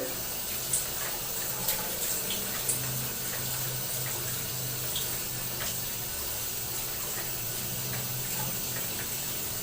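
Water runs steadily from a tap for bathing, a constant close hiss with a few faint knocks and no speech over it.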